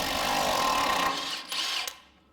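Milwaukee power tool spinning off rusty rear shock bolts on a Jeep Wrangler, one steady close whirring run that dips briefly near the end before winding down.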